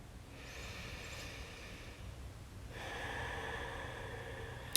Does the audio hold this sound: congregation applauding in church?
no